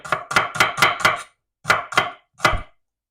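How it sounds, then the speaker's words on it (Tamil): A knife chops food on a cutting board while preparing a chicken curry: a quick run of five firm, close knocks, a pause, then two more and a final single stroke, with no talking. "இதை அப்படியே கட் பண்ணுறது"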